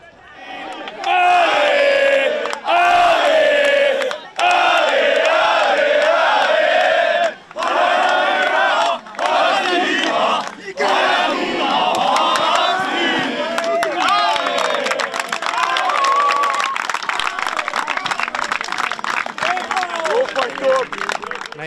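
Home fans at a DMTK football match celebrate a 2-0 win over Vác, loud rhythmic chanting and shouted cheers in bursts, then a continuous roar of crowd noise with clapping.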